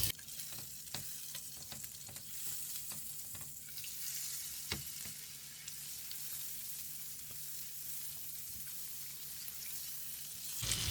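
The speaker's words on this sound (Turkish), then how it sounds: "Cevizlerimiz 2-3 dakika kavrulduktan sonra 1 yemek kaşığı tereyağı ekliyorum." Walnuts toasting in a pan with a spoonful of butter: steady, quiet frying sizzle with occasional soft stirring clicks, close and alone with no talking.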